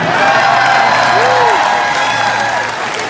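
A political rally crowd in Victoria cheers and applauds loudly and continuously, with scattered whoops rising above the clapping.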